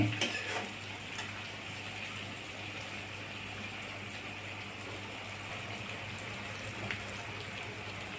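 Tomato, onion, urad dal and green chilli sauté in a hot pan for tomato rava upma. A continuous, even sizzle and crackle of frying goes on throughout, with a brief stir or clatter near the start.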